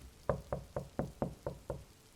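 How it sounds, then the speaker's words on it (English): Seven evenly spaced knocks on a wooden door, crisp and fairly close, in a steady rhythm with nothing else around them. "Who could be knocking at our chamber door?"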